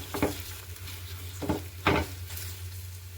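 Beaten egg and masala stirred and frying in a pan for egg noodles, a soft steady sizzle broken by three sharp scraping strokes of the spoon against the pan, close and alone.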